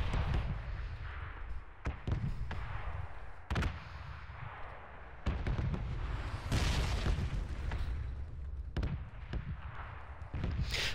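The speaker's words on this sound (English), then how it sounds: "Funny how the bombs blow up and the buildings don't." Bombs exploding in the PUBG video game, heavy booms and sharp blasts going off repeatedly over a constant rumbling background, loud and fairly close.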